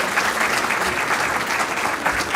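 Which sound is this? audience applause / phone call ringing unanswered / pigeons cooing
audience applause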